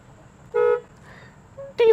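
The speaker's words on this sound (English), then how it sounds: "Decent sounding horn." A Chrysler 300C's horn honks twice, a short solid blast followed by a second brief toot, loud and close with quiet in between.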